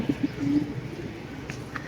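Kept domestic pigeons coo nearby in a few soft, low throaty phrases, one drawn-out coo in the middle, over quiet background noise.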